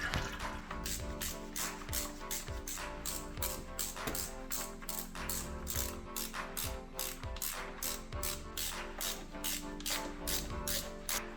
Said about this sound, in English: all the bolts from the manifold loosened up and taken off